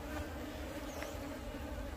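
Honey bees drone at a hive in a continuous, close buzzing swarm that stays at a steady level throughout, with no voices.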